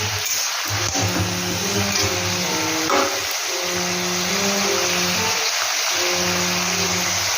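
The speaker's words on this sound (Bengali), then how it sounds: "এখানে বিনস, ক্যাপসিকাম, গাজর এগুলো আছে, এগুলো আমি ভালো করে ভেজে নেব" Beans, capsicum and carrot frying in a pan, a steady hissing sizzle filling the whole clip, with a faint tonal hum drifting underneath, close and continuous.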